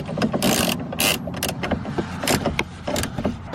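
Clunky mechanical rattles and metallic clicks as a replacement window regulator is moved upward by hand inside a Saab car door, with bursts of scraping and loose metal jangling, close and fairly loud, no talking.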